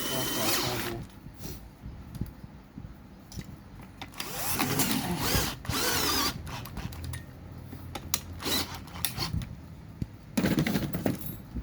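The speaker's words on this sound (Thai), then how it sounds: "แล้วก็ยึดน็อต ยึดน็อตแท่นนะครับ" A power tool tightens the engine mount bolts on a 5200 chainsaw during a crankshaft replacement, giving loud, close bursts of whirring and rattling, while someone talks over the work.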